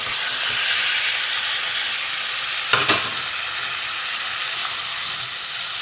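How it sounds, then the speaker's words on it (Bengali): Spice paste for a potol and potato gravy fries in oil with a broad, steady sizzle and hiss, and a single clear spatula scrape midway through. "এর সাথে একটু আমি কষিয়ে নেব মশলার সাথে।"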